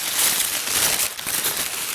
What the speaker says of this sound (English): Let's unwrap that.